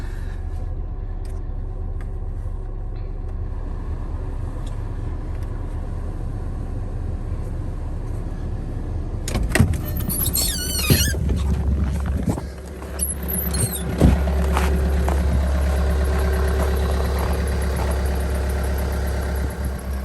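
A 2009 Volkswagen Jetta TDI diesel engine with 536,000 miles idles steadily and close, a constant low rumble with a brief rise in noise partway through and no talk.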